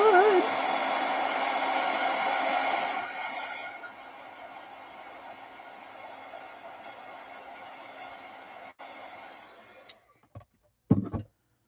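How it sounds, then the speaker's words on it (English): A heat gun blows steadily to dry face paint, a close, loud, even hiss-and-whoosh that eases off partway and then cuts out, followed by a few brief clunks. "Now I might need my heat gun here to dry this up a little quick."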